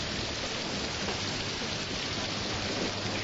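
Steady, dense rain pours down during a thunderstorm in the American South, a continuous broadband hiss of close, loud downpour with no break and no voices.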